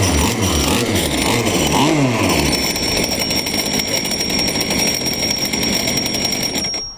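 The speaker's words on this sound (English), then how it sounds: "That rattling you're hearing is the clutch." A newly installed engine on a RotoBoat idles steadily and loudly, with a continuous mechanical clatter from the clutch running through the drone and a faint high whine above it, cutting off at the very end.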